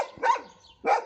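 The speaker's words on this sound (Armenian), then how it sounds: "երկու հատ գիժ, որոնք հաչում են" Two dogs bark at feeding time during a cleaning day, giving two short, faint barks about half a second apart, alone and at some distance.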